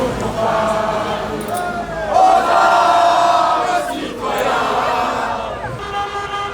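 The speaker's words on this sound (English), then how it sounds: "they were all chanting and singing like so loud" A crowded Paris café during the World Cup opening, where a dense crowd chants and sings loudly in continuous swelling waves, with occasional car horns and street noise mixed in.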